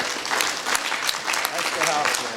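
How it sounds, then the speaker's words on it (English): A crowd at a community listening session in Minneapolis claps steadily for a couple of seconds, a dense patter of many hands with no voices standing out. "clap your hands if you're for 5 minutes."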